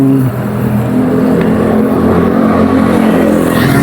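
Dense, steady road traffic on the Mindanao Avenue overpass, a loud continuous rumble of engines and tires with a low droning hum, no talking.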